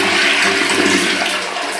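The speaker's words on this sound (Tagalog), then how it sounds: "Okay, flush natin." A toilet flushing in a newly finished bathroom, a loud, close rush of water that pours steadily for the whole short stretch, with no talk over it.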